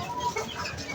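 Chickens clucking nearby in a brief burst, a few soft overlapping clucks over low background noise.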